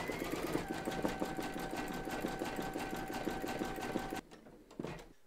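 An embroidery machine stitches an in-the-hoop reindeer towel topper, running a steady, fast, close mechanical stitching rhythm that stops abruptly near the end, followed by a couple of faint handling noises.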